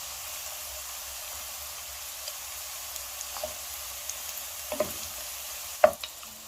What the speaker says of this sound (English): And so we are frying our sausage.